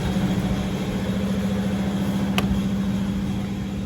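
A Suzuki Swift engine idles steadily with a low, constant hum and rumble throughout, close by, with a brief faint click partway through; check engine light on.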